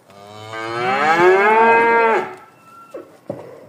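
Hereford calves for sale in Pavlodar give one long, loud, close moo lasting about two seconds, followed by a few brief quieter sounds.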